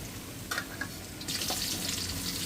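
Fenugreek seeds frying in a hot pan for a home-cooked Tamil lunch, a steady close sizzle with brief crackles and stirring scrapes, growing louder and hissier partway through, no talking.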